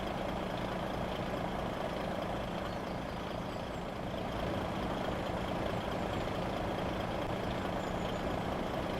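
A heavy truck idles in stalled traffic in Euro Truck Simulator 2, a steady low engine rumble held evenly throughout with no voices over it.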